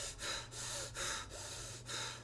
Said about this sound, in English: breathing heavily